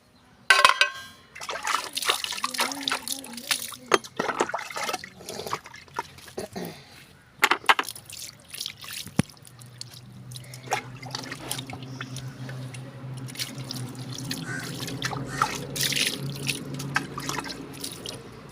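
Tap water runs and trickles while a washed steel tumbler is rinsed, clattering and splashing close by in the opening seconds, then settling into a steady, moderate stream of running water.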